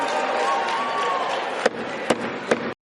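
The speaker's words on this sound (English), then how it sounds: "Listen to the Democrats all cheering." Democrats cheer in the House chamber, a loud crowd roar of voices with several sharp bangs or gavel-like knocks before it cuts off abruptly.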